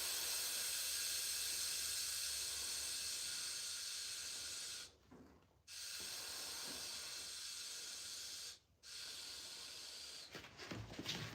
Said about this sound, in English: I'm going to have to turn the compressor on and